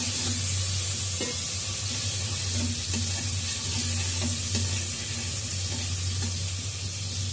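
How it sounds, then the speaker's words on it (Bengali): Sliced onions sizzle in hot oil in a pan, a steady close hiss running through the whole stretch with faint stirring scrapes and no voices. "তেল দিয়ে পেঁয়াজ ভাজা বসালাম"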